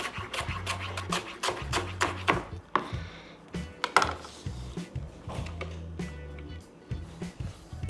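A knife chopping onion on a board, a quick run of sharp, close taps in bursts with brief pauses between, the pace slowing toward the end.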